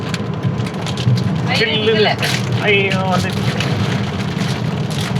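Heavy rain drums steadily on a car during a Hyderabad to Chennai road trip, a dense continuous wash under a man's speech and brief vocal exclamations, with the cabin AC and road hum beneath.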